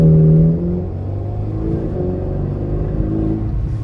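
A car drives and accelerates, its engine making a steady low rumbling drone heard from inside the cabin, with a slight rise in pitch as it picks up speed and no voices.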